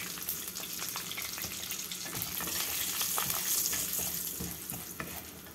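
Spices, split chickpeas, turmeric and a pinch of asafoetida crackle in hot oil while tempering green peas lemon rice, with a dense, steady close sizzle and occasional stirring scrapes, no talking.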